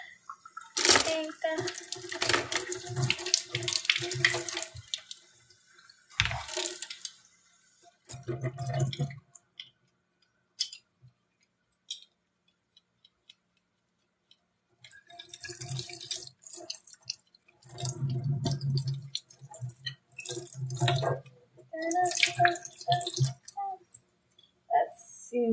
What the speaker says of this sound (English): Now wash the kids' brushes for paint.